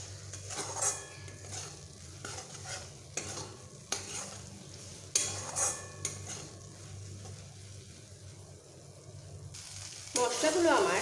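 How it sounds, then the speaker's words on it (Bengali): Spice masala for a ridge gourd curry sautés in a pan, with repeated scraping stirs and bursts of sizzle in an uneven rhythm, close and moderately loud, plus a brief clatter near the end. "মশলাগুলো আমার কষানো হয়ে এসেছে।"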